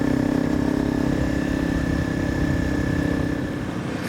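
A Honda CRF300 Rally motorcycle with an Akrapovic exhaust runs steadily on a ride through Wales, a close, even mid-pitched engine drone with a constant whine, no talk.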